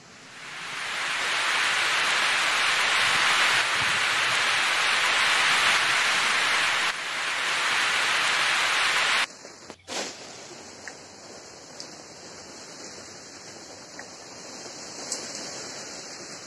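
Steady hiss of rain falling for about nine seconds, then it cuts off abruptly, leaving a much quieter background with faint high tones.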